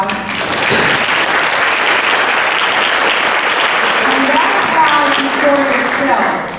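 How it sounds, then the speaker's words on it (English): Loud, dense audience applause fills a youth resilience summit hall, a steady wash of many hands clapping that holds evenly from start to finish, with a few voices faintly mixed in. "I want y'all to give another round of applause."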